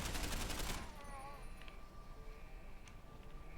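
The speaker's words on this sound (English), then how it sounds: "I don't like that this has a burst fire." A quick run of burst-fire gunshots from a pistol in Deus Ex: Human Revolution rattles loudly at the start, then fades into a quiet background of faint game tones and small clicks.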